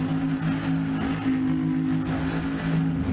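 Trans Am race cars in a video game sim race at WeatherTech Raceway launching from the start, a loud layered engine drone that holds steady and swells slightly as the pack gets away.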